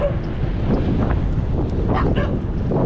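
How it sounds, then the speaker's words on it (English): Penned dogs bark a few times at a distance near Custer City, Cooke County, Texas, the yips carried over steady wind rumble across the microphone. "Uh-oh, I hear a dog."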